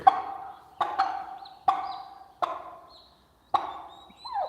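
Turkeys and young turkey poults being fed boiled eggs make several sharp pecking knocks and chopping taps in sequence, with faint high chirps from the poults between them, close by and with no voices.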